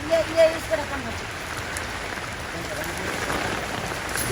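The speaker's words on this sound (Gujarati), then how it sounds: "અત્યારે ઋષિકેશમાં વરસાદ ચાલુ છે બહુ જ" Heavy rain in Rishikesh patters steadily on surfaces nearby, a dense, even wash of drops, with a brief voice near the start.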